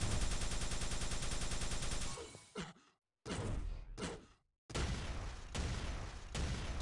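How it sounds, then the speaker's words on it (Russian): Rockets launch and blow up in WarCup, a game on an arctic map: a long dense roaring blast fades out, then sharp explosive bursts cut in and out with brief silences between them. "Очень классные ракеты полетели."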